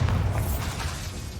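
A Bombarda spell explosion from the Hogwarts Legacy game lands as a short, deep booming burst with a rumbling low end that fades gradually amid ongoing battle sounds.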